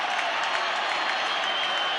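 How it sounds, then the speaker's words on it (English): Stadium crowd at a 1989 rugby league playoff between Cronulla Sharks and Brisbane Broncos roaring and applauding a big tackle, a dense, steady wash of cheering filling the whole moment. "And the crowd love it."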